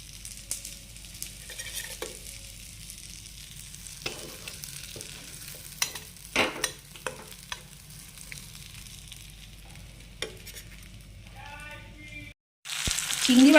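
Potato pieces frying in oil left from shallow-fried prawns, with cumin, dry chili and a bay leaf, for a bottle gourd and prawn curry; a steady low sizzle with stirring clatters and scrapes, ending in a sharper burst of frying.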